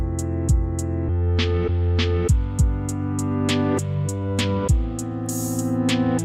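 Chopped electronic beat pattern with a short roll, playing sharp kick hits and a sustained bass layer under clicking high percussion, with a quick burst of repeated hits near the end, loud and close with no talking.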